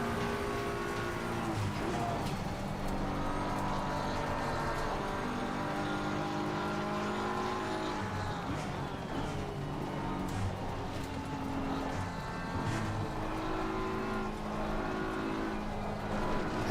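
BMW M4 GT3 race car engine at Paul Ricard in a sim racing game, a steady loud droning roar with shifting harmonic pitch as it runs close behind other cars, continuous throughout with no pauses.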